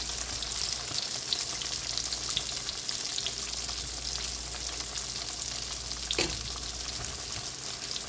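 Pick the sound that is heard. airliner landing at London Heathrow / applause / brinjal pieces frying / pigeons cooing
brinjal pieces frying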